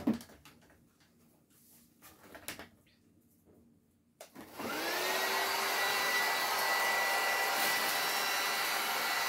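A heat gun shrink-wrapping a butterfly chair Easter basket starts after a few quiet seconds of handling and rustling, then blows loud and steady, a constant whooshing roar close by.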